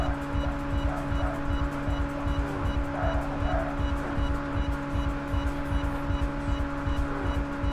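A car races along a highway in the video game Burnout, its engine droning steadily with a constant whine and rapid rhythmic road rumble, close and loud throughout.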